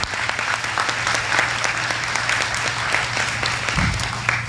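A banquet audience at a service awards dinner applauds a 35-year service recipient, steady dense clapping throughout with a low hum beneath and a brief thump near the end.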